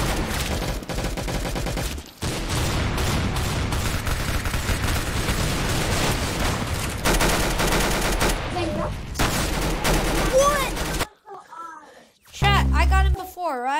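Gunfire in the Roblox game Phantom Forces, with dense bursts of rapid automatic shots that continue for several seconds and then cut off, while players talk over the action.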